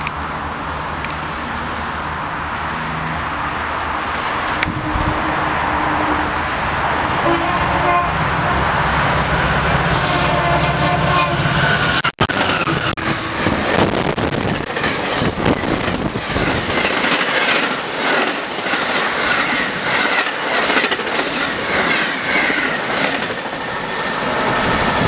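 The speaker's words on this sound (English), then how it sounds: "God, that was a fast train." A fast train on the Mont-Saint-Hilaire line roars past, loud and close, with a brief horn toot and a steady rush of rail noise and wheel clatter that builds and holds for about twenty-five seconds.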